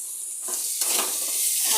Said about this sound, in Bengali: নাড়তে থাকবো যতক্ষণ না পেঁয়াজটা ভাজা হচ্ছে।